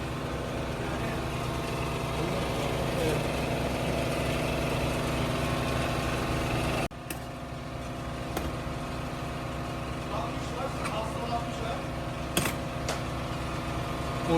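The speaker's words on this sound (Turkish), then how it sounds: "Marşa çok kolay basıyoruz hemen." A 50cc scooter engine idles steadily at close range, a continuous even mechanical hum and vibration that drops slightly in level partway through, with a few faint clicks and knocks over the running engine.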